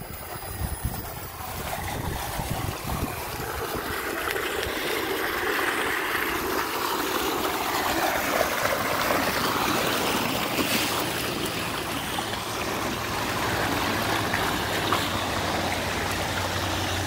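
Water running steadily through a temporary 8-inch drain tile flowing about half full at a solar-powered 3-horsepower dewatering lift station, a continuous rushing wash with no talk over it.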